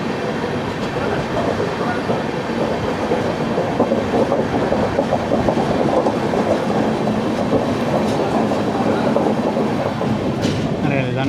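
Inside an AC 3-tier coach of the 12685 Mangaluru Super Fast from Chennai Central, a steady loud rumble of the moving train carries faint rhythmic wheel clatter throughout, with a brief high squeal near the end.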